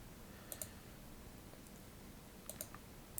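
Sparse, faint computer keyboard clicks come in a few small clusters against a quiet room background, with long pauses between the keystrokes and nobody talking.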